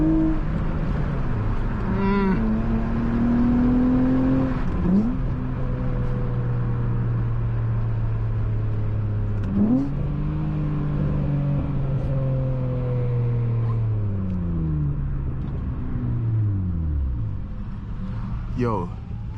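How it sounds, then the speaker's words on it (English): A loud 2004 Honda Accord coupe with a J32 V6 and six-speed manual is heard from inside while driving, its engine note rising and falling through repeated revs and gear changes over about nineteen seconds, with voices talking over it. "This car sounds too good."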